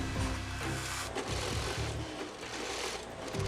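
Industrial sewing machines stitch a bomb disposal suit jacket at a factory sewing station, producing a busy, continuous mechanical whir with overlapping motor runs and clatter.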